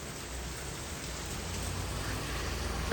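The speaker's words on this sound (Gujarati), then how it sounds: "જો સવારનો કન્ટિન્યુ વરસાદ ચાલુ છે" Continuous steady rain falls outdoors, a dense even hiss of drops on surfaces with no voices, holding at a constant moderate level throughout.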